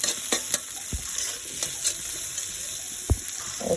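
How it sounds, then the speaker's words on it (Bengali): Potato pieces frying with onion in a wok give a steady close sizzle, broken by several sharp clacks of a spatula stirring and scraping. Nobody speaks. "এখন কয় টুকরা আলু ভেজে নিচ্ছি পেঁয়াজের সাথে"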